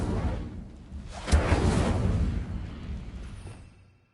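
Incendio fire spell cast in the Hogwarts Legacy video game, a fiery whoosh and burst that swells, peaks in a brief flare, then fades out gradually over a few seconds.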